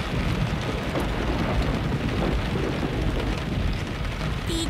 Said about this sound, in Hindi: दीदी बारिश हो रही है